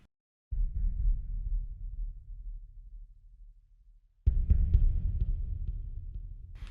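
Deep, muffled drums with sub bass, delay, rolled-off top end and wide stereo spread, from a piano reconstruction of a film score piece, booming low hits that fade and then return louder, no talk.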